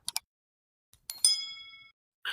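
A few quick clicks, then a single bright bell ding rings out and fades away, followed by a short swish.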